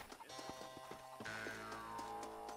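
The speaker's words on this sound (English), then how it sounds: "Nossa, corrida de cavalo agora, mano." A horse gallops in a race in the Western video game Red Dead Redemption, its hooves thudding in a quick, regular rhythm close up, over a continuous background of game sound.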